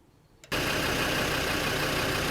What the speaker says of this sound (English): as you can hear, we've started the engine